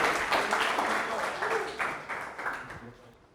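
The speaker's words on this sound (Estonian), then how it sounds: "teeme aplausi veel meie õnnetuses vabatahtlikele, aitäh teile." Audience applause for accident volunteers at a gathering, a dense wash of many hands clapping that slowly thins and fades over a few seconds, with voices mixed in.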